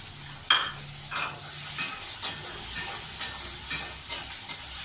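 Garlic and onions sauté in a pan for pirandai kuzhambu, a close, steady sizzle punctuated by regular stirring scrapes roughly every half second, with no speech.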